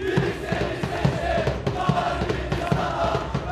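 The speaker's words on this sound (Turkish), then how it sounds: "Teşekkür ediyorlar alkışlıyorlar" Crowd noise after a football match as the team applauds its supporters, a dense, distant roar of voices with soft irregular claps and cheers running steadily throughout.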